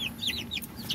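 Young chicks in a backyard breeding pen, fed moringa leaves, chirping and peeping in rapid, overlapping high calls that fill the moment at close range with no talk.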